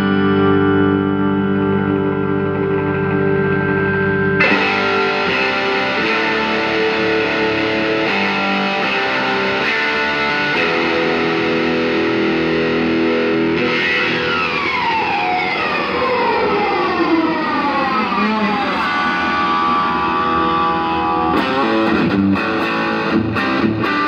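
A 2022 Gibson Les Paul Jr. electric guitar on its bridge pickup plays through a Fender Deluxe Reverb amp, loud and continuous: sustained chords and notes, then bending, sliding lines with a gritty driven tone and no talk.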